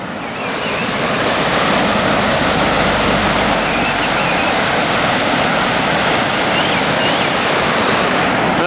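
Loud, steady roar of river water rushing over the Brookhouse salmon jumps weir, running high with snowmelt; a constant broadband wash with no talk.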